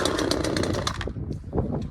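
A chainsaw engine, choke pushed in one notch after a pull on the cord, catches and buzzes in a quick rough burst, then sputters and fades into faint intermittent revving.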